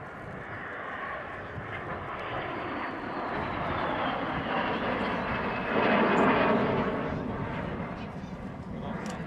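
A de Havilland Vampire jet fighter with a wooden fuselage roars steadily overhead at the Dunsfold Wings and Wheels 2018 airshow, a broad loud rushing that swells toward the middle and slowly fades.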